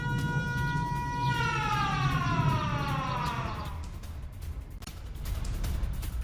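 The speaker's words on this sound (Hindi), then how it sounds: "हमलों के बाद जगह जगह एयर रेड अलर्ट सायरन भी सुनाई दिए" An air raid alert siren, sounding after attacks, wails and sweeps downward in pitch and fades, sounding from a distance over a low background rumble.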